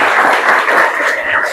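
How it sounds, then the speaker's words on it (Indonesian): Audience at a university session breaks into steady applause, a dense continuous clatter of many hands with no voices, holding an even level throughout the short stretch. "Oke, tepuk tangannya buat"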